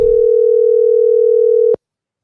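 Telephone tone while placing a call to a friend, one steady loud continuous electronic tone lasting under two seconds before cutting off abruptly into silence.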